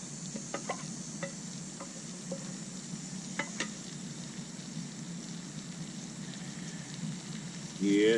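Freshly cut onion and red and green peppers fry in real butter outdoors, giving a soft steady sizzle with a few sharp clicks of a utensil against the pan near the start.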